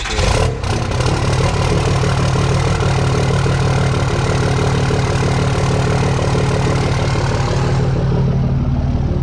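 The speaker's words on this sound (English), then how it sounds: "we're gonna get a cold start. Let her warm up while I wash her" A truck engine idles loud and close after a cold start on a freezing day, a steady low rumble that runs unbroken for several seconds before easing slightly near the end, with no talking.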